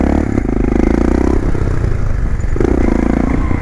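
A motorcycle engine revs hard during a wheelie attempt, loud and close, with two sustained high-revving bursts separated by a brief drop and some clatter from the bike.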